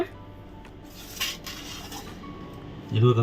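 Dishes and cutlery clinking lightly at a home lunch table as the meal begins, faint scattered taps under a quiet room tone, ending with a louder clatter.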